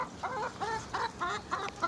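Chicken clucking near a farm area where bark has been laid down, a series of about six short, close, moderately loud clucks in a steady rhythm with no talking.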